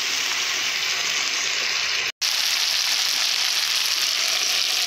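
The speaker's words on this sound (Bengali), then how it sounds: "এইভাবে কিছুক্ষণের জন্য কষে নেব" Potato and taro curry (aloo kochu kosha) fries in a pan with a steady, loud sizzle, broken by one brief dropout midway before the crackling resumes unchanged.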